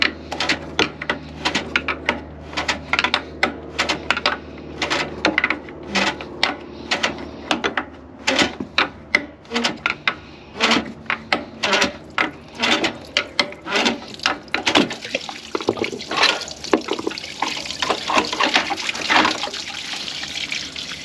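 A regular screwdriver works loose and unscrews the thermal regulator on a Pentair pool heater, producing close, irregular clicking and ratcheting metal scrapes that continue throughout.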